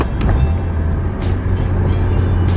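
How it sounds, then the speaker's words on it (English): A BMW car engine drones steadily while driving, a low continuous hum with road noise, close and fairly loud, with no speech over it. "It's not that hard to rev match in this car."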